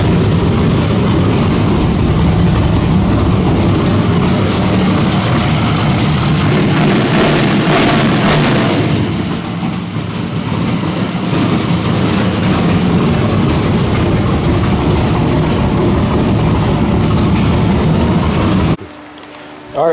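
A carbureted car engine runs with its timing set to 36 degrees, holding a loud, steady roar and rumble that rises into a brief rev in the middle, settles back, and cuts off abruptly near the end.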